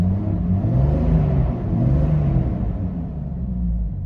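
A 1996 Jeep Cherokee XJ Sport with its 4.0 engine and four-speed automatic revs close by, a loud low rumble that swells and eases twice and then settles back to idle.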